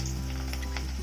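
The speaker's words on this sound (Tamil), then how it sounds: "நம்ம ஓட்ஸ் பக்கோடா போட்டு எடுத்துக்கலாம்." Oats pakoda batter drops into hot oil over a medium flame and gives a faint, brief hissing sizzle above a low steady hum.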